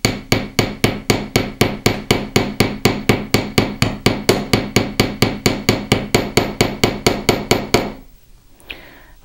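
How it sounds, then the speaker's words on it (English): A hammer's ball end strikes fine silver, texturing a clasp, in a steady, rapid series of about thirty sharp ringing blows, then stops abruptly, leaving near silence. "turn my hammer over, and using the ball end, I'm going to start putting some texture"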